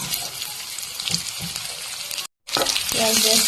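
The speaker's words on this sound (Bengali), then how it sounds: "পেঁয়াজটা আমি একটু ভাজিয়ে নিয়ে দিয়ে, পেঁয়াজ রসুন গাইস একটু বেশি বেশি লাগবে" Onion added to oil with garlic already fried in a pan, cooking a vegetarian bottle gourd greens dish, sizzling and crackling steadily up close, briefly cut out, then louder bubbling frying with faint voices underneath.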